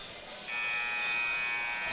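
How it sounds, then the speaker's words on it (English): A steady electronic buzzer tone at the end of a period in a girls' basketball game starts partway through and holds loud and sustained over a faint background hum. "So the buzzer sounds"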